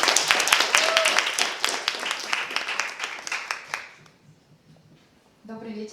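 Science slam audience applauds at a republican young scientists' event: dense clapping from a crowd for about four seconds that thins and fades out, followed by quiet and then the start of a speaker's voice.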